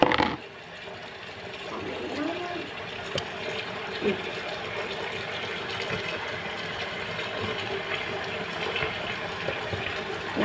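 Water runs steadily from a tap over chopped beans being rinsed, a continuous close gushing splash with a few clatters, while a person talks over it.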